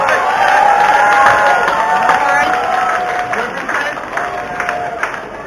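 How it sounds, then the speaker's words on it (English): A lively crowd cheers and shouts continuously at a chilli-eating competition, voices and whoops overlapping at close range, with some speech mixed into the din. "Give him a cheer, folks. Cheer him on."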